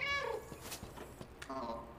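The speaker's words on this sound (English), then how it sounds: "I guess I gotta meow when they're throwing it." A cat character in the video game Stray meows twice: a drawn-out meow at the start and another near the end, with thumps and clatter from in-game action between them.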